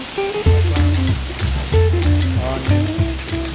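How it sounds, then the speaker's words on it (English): Clams with herbs and onions in olive oil in a hot pan give a loud close sizzle, with rhythmic bursts and strong low thumps from the pan being shaken or stirred, no voices. "now we've got our clams in the hot pan with our herbs and onions"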